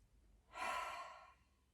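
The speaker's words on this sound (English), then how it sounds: "taking a big inhale through your nose and a big exhale through your mouth" During a yoga practice, a single audible breath, a soft exhale rising and fading over about a second, quiet and close with no speech.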